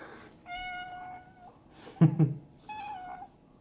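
A house cat meows twice, close and clear, with a brief thump or shuffle between the calls in a quiet indoor room.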